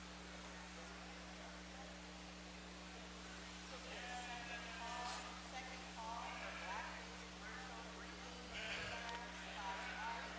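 Sheep bleat several times at a county fair 4-H and FFA sheep show, fairly distant calls over a steady mains hum, while an announcer speaks over a loudspeaker.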